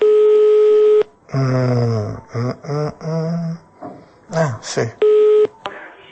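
Telephone line tones during a phone call: a steady, loud tone plays for about a second, someone speaks over the line, then the same tone returns briefly near the end.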